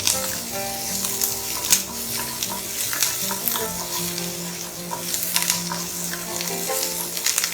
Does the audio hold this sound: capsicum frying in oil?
yes